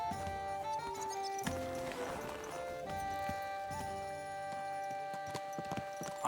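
Horse hooves clip-clop steadily in Kingdom Come: Deliverance II, a quick rhythmic trot under a layer of game music, with a brief whinny-like burst partway through; no talking.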